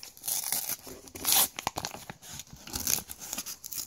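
A paper mail envelope ripped open by hand, with close, loud bursts of tearing and crinkling in irregular pulses and no voices over it.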